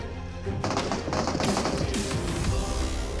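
Loud, dense bursts of rapid gunfire crackle continuously for a few seconds, PUBG Mobile game combat with overlapping shots.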